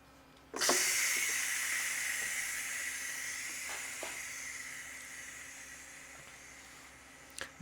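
Steam bursts from the pressure release valve of a Ninja Foodi or Instant Pot cooking a chocolate cheesecake, a sudden loud hiss that holds steadily for several seconds and slowly tapers off, with a few faint clicks along the way.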